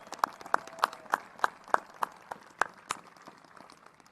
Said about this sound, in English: Let's give him another round of applause, Governor.